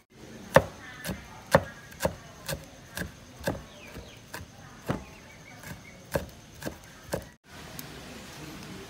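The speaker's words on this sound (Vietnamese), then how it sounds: "Có tỏi này băm nhuyễn" Garlic is minced with a knife on a board for a black pepper crab sauce, making a steady run of about fifteen crisp, close chops at an even rhythm before a sudden stop.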